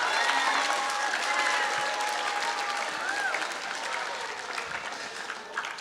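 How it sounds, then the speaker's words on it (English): A school crowd claps for an Indigenous hoop dancer's performance in a gym, sustained applause with faint cheering and high whistle-like tones, tapering slightly near the end. "All right, round of applause."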